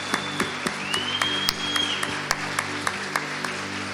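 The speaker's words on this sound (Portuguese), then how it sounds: "Eu quero que você dê uma salva de palmas bem forte" Congregation applauds during a live church service, with sharp, scattered claps ringing out over a steady background of sustained tones.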